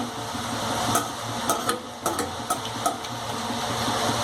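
Chakli deep-fry in hot oil over a medium flame with a continuous dense sizzle, and a few sharp clicks and taps of a ladle striking the metal wok as oil is spooned over them.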